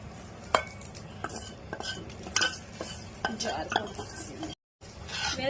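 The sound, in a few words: stirring pulihora with curry leaves and peanuts in a pan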